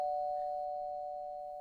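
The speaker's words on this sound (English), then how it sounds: "When she got there, she rang the bell." A doorbell rings at a house door in an audio drama: one clear, sustained electronic chime tone that holds steady and alone for under two seconds before cutting off.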